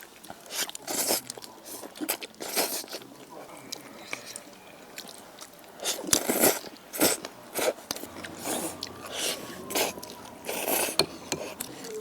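Someone eats cold-dressed buckwheat noodles with garlic, making wet slurps, bites and crunchy chewing in irregular close bursts, while quiet talk goes on in the background.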